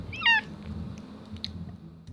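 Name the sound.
cat meowing to have its rear patted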